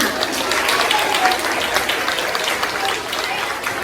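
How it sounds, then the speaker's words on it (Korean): Steady, dense clapping from an audience at a church children's Christmas show fills the whole stretch, even and sustained without pauses. "다시 한번 우리 5, 6학년 친구들에게 뜨거운 박수 부탁드립니다."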